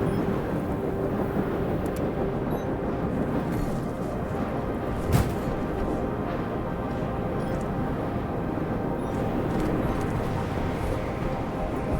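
A storm in the Stationeers video game brings a dense, constant roar of wind and rain, with one sharp crack partway through and a low rumble throughout.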